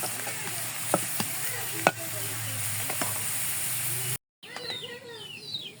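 Thinly sliced jackfruit seeds fry in hot oil over medium heat, a steady close sizzle broken by a few sharp stirring knocks, with birds chirping in the background after a brief cut.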